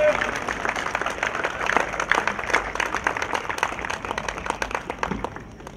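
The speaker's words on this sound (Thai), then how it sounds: "ขอเสียงปรบมือด้วยค่ะ" Audience applause at a tennis final ceremony at a men's ATP Challenger tournament in Hua Hin, a dense steady patter of many hands clapping throughout, moderately loud, with voices mixed in.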